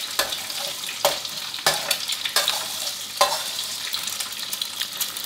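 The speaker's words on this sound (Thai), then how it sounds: "ใส่ไข่ก็รอสักครู่ครับรอให้ไข่เริ่มที่จะเซตตัวเข้ามานะครับแล้วก็คนๆได้เลยครับ" Egg cooking in a hot pan while being stirred, with soft continuous sizzling broken by several distinct scraping stir strokes at irregular intervals, close and fairly quiet, with no talking.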